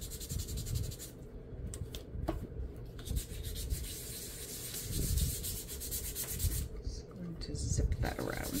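An old nail file scrapes back and forth in quick, close rubbing strokes, sanding a small craft piece in a steady rhythm.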